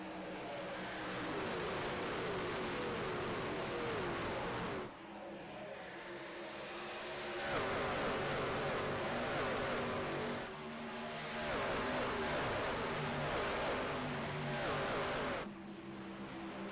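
Race trucks in the Hardline Truck Series of a racing video game launch at the start at Homestead-Miami Speedway, a loud, dense, continuous engine roar that briefly dips and surges again as the pack accelerates, with no talking.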